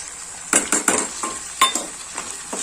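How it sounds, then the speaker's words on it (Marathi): Powdered spices are sautéed in oil alongside tomato for a village-style Bhogi vegetable dish, a few close spoon scrapes and clinks against the pan over a soft sizzle, brief and unaccompanied by talk. "छान पावडर मसाले पण छान परतून घेऊयात तेल सुटेपर्यंत"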